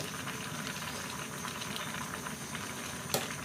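A pot of fish curry with sour bamboo shoots and pumpkin simmers, giving a steady close bubbling and hiss with a brief clink near the end, and no talking.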